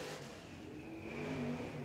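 Race cars run around the dirt track at Swainsboro Raceway at night, engines droning and revving at a distance in a steady, faint, continuous roar with no talk.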